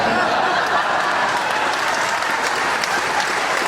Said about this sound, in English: Yes, Julius, we've got one hell of a crowd.